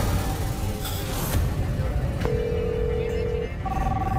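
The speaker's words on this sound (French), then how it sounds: "Il y a un téléphone qui sonne." A telephone gives off a steady electronic ring tone, one long sustained note followed by a shorter one, over a constant background murmur, with voices talking nearby.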